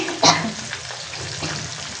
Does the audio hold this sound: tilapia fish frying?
yes